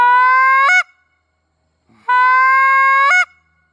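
Goose call blown in two long steady blasts, each rising in pressure until the reedy honk cracks upward into a higher break note, loud and close with a pause between.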